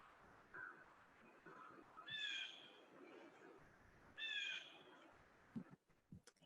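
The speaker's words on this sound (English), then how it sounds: "Hear a lot of bird songs in the background." Birds call twice in the background, each time a short, bright run of chirps, fairly faint over soft ambient room noise. Brief knocks and handling sounds follow near the end.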